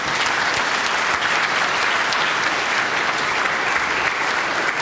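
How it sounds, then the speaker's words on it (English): Hall of Fame induction audience applauding a football coach, a loud, dense, sustained round of clapping from a large crowd with no speech over it. "Another round of applause."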